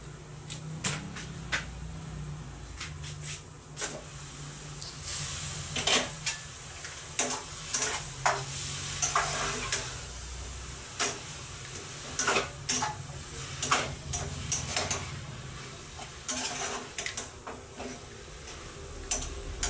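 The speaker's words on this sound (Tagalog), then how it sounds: "Nagluto ako ng langka. Gisa-gisa lang." Jackfruit sautéed in a pan gives a soft sizzle under repeated clinks and scrapes of a utensil stirring against the pan, close and irregular throughout.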